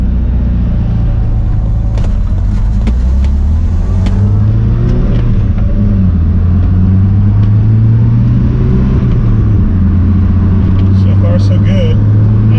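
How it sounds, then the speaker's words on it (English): A car with no speedometer accelerates past 20 miles an hour, a loud, close engine rumble rising in pitch with wind and road noise, and a person speaking over it. "First acceleration beyond 20 miles an hour."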